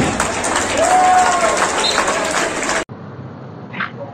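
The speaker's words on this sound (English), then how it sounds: "A huge round of applause for the dog gun." A crowd applauds a dog squad at an Independence Day celebration at Reliance Corporate Park in Ghansoli, a loud, dense wash of clapping and cheering that cuts off abruptly, leaving quieter background murmur.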